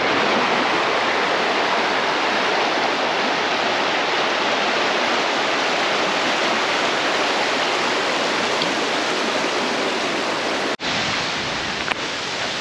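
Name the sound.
waterfall in a forest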